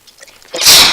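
A single sharp human sneeze, a brief quiet inhale followed by a loud explosive burst, close and alone.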